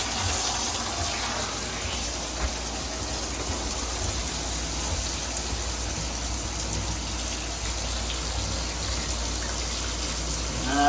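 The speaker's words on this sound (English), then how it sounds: "All right, here goes the shower." Newly installed shower in a new cabin build in Western Kentucky running steadily into its drain, a loud continuous hiss and splash of water lasting throughout with no talk.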